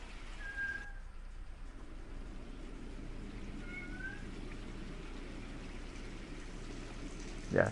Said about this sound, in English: one of my cats, if you can hear